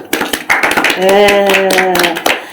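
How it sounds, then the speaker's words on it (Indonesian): Audience clapping at a school gathering, a scatter of claps that gives way to a sustained voiced tone held for about a second, with speech close by. "Tepuk tangan dulu"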